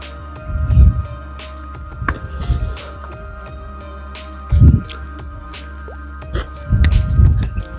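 Worm castings are worked into container potting soil in several short, close, squishy bursts of crumbling and rustling, spaced apart by quieter moments with a faint steady hum.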